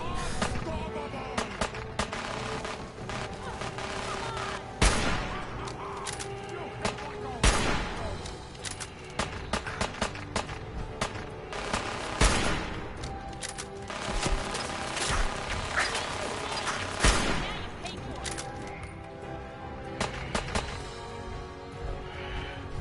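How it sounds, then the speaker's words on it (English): Sustained minigun fire in Fallout 4, with dense rapid bursts and sharp impacts echoing through a brewery interior over about twenty seconds, mixed with other gunfire and occasional game voices. "This dude has a minigun wherever he is."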